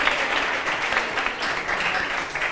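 A full audience claps steadily for author Fermín Cabanillas at a literary autumn-festival gathering, a continuous wash of applause holding an even level throughout.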